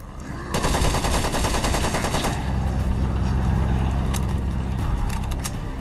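An AS-44 Soviet prototype assault rifle from 1944-1945 fires in a video game in one long, loud, continuous automatic burst lasting several seconds.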